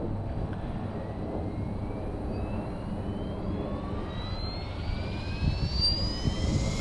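An SAB Goblin 380 RC helicopter spools up before its maiden flight. Its whine climbs steadily in pitch over a constant, fairly loud rushing hum, with no talk.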